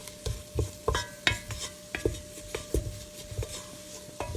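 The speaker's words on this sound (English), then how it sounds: "I'm going to add in the flour to my butter. Okay. We'll mix that all up." Flour being stirred into melted butter in a heavy-bottomed stainless steel pan, with a spoon scraping and tapping in an uneven rhythm over a soft sizzle, close by and with no talking.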